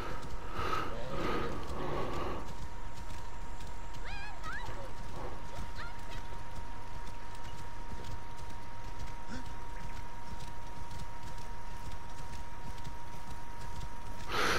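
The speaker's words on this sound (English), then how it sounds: "the horse will start galloping a bit quicker" Horse galloping in the video game Assassin's Creed Origins, rhythmic hoof clip-clops with snorting at first, then fading under a steady game ambience with a low tone.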